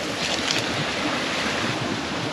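A small waterfall on a little stream rushes steadily, a dense, continuous close roar of falling water with some wind buffeting the microphone.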